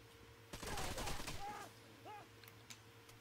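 Gunfire in the video game Rainbow Six Vegas 2: a dense, rapid burst of shots lasting about a second, followed by a few fainter cracks and electronic tones over a steady background hum.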